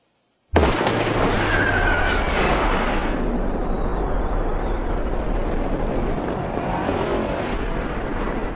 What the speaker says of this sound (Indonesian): Dan ledakan pun terjadi.